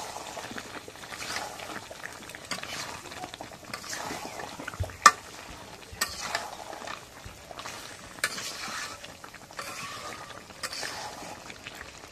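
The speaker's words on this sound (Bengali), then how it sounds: "এখন আলু দিয়ে মাংসটা কষাই নিই।" Meat and potatoes stir-fried in a pot give quiet sizzling under repeated scraping and stirring strokes, with a sharp utensil clank on the pot partway through.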